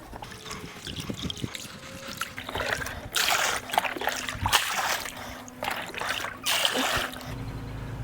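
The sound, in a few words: pouring pool chemical into above ground pool water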